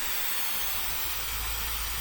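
An aerosol spray paint can hisses in one steady, continuous burst while blacking out trim on a 2024 Nissan Z, a broad airy spray held up close with no pauses.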